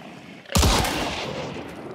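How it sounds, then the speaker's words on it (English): A shotgun blast in the Hunt: Showdown game, with one sudden loud report halfway through, then a long rumbling decay and echo that fades slowly. "I'm gonna shotgun the other one in the face."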